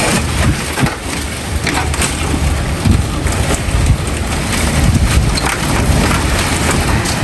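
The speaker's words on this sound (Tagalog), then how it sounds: "Sobrang lakas ng hangin." Fierce typhoon wind roaring with heavy rain lashing surfaces, a loud, dense and unbroken wash of gusts and downpour battering the microphone throughout.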